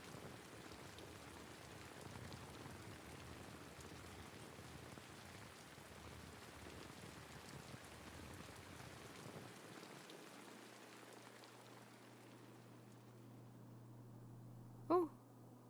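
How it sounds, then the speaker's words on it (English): Steady rain falls in a music video, a soft continuous patter on surfaces that cuts off near the end, leaving a low hum and a brief sharp sound. "Ame, the rain."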